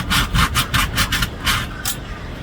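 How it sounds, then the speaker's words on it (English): Small sandpaper rubs back and forth along the edge of a sailboat hatch in about seven loud, close, rhythmic strokes, a raspy scratch on each pass. "I have this little sandpaper. I'm going to just smooth it up"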